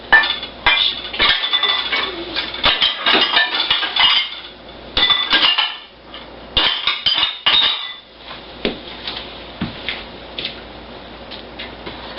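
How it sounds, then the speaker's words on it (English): Dishes and a pan being washed in a home kitchen, with steady clinks and clatters of cutlery, plates and pots under running water, close and fairly loud, pausing briefly before resuming. "This pan's not going to come clean, I'm sure. It's from before this. I can at least wash it."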